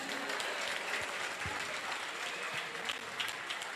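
A congregation at a Brazilian Pentecostal church service claps steadily, a continuous even patter heard somewhat distant, with no voices rising above it.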